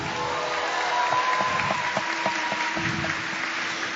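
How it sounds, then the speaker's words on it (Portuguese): Applause from an audience at a Catholic religious gathering, the Encontro da Obra de Maria at Canção Nova, sustained and dense with some sharper claps, a steady wash of clapping with a faint voice or tone underneath. "Vamos aplaudir isso, pode aplaudir"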